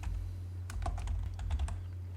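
Keys clatter on a computer keyboard as a short command shortcut is typed and Enter is pressed: a quick cluster of crisp clicks over a steady low electrical hum, with no talking.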